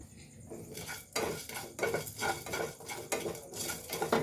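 Salt stirred into a mango and guava mixture, with repeated scraping and clinking of a spoon against a pan in uneven strokes, close and moderately loud, with no talk.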